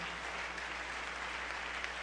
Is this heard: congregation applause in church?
yes